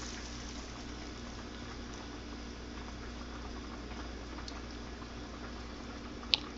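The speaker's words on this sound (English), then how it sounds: "So here are my scrambled eggs. I'm going to pour it into the pan." Beaten scrambled eggs poured into a pan over a low flame give a steady soft sizzling and bubbling hiss, continuous and moderately close, with one brief click near the end.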